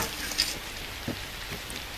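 Rain falling in a Roblox driving game, a steady soft hiss of drops filling the scene with a few faint taps and thuds, with no talking.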